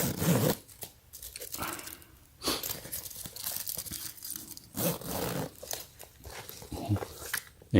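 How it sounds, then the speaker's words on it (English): A gold zipper on a Marc Jacobs New York backpack, midnight blue Moto Cobalt Domo Arigato style, rasps in short pulls amid crinkly handling of the bag, close and fairly loud, with a voice talking in between. "And you got 2 of this zipper in the front."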